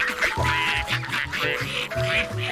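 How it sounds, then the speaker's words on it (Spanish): Cartoon ducks quack loudly and close up in a quick series of nasal calls. "Para los patos."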